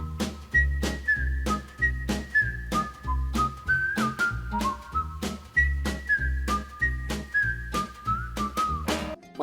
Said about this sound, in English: I'm more intrigued by DK's whistling when you're standing idling singing